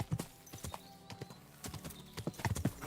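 Horse hooves clip-clop in the video game Kingdom Come 2, irregular close clopping steps with brief pauses, moderately loud.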